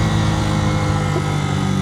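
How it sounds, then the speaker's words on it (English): A Suzuki TU250x motorcycle engine droning steadily and loudly up close while downshifting, a continuous low rumble with wind noise and no clear break. "Some crispy downshifts on the TU."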